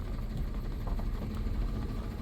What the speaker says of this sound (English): No, it's engine noise, I think.